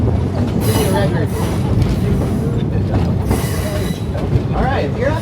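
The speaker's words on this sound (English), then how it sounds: "Our train will now be crossing the 70-foot tall Powder Creek Trestle" Roaring Camp Railroads heritage train in Santa Cruz rolling along its rails toward the Powder Creek Trestle, a steady, loud mechanical rumble with rattling and faint squeals, heard close with murmuring voices in the background.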